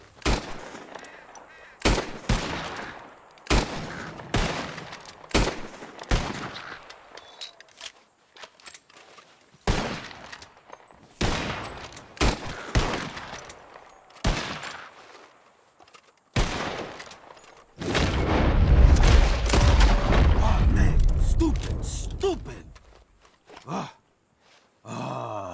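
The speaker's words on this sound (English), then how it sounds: "whoever shoots four birds out of the sky first wins" Gunfire from a bird-shooting contest in Red Dead Redemption 2, with a dozen loud, sharp shots spaced irregularly and close by, followed by a long roaring burst near the end.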